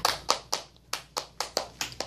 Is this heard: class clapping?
yes